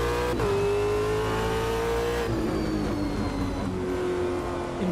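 A Caterham race car in a racing video game revs hard and accelerates, its engine note climbing and shifting through gears, loud and steady with no talking over it.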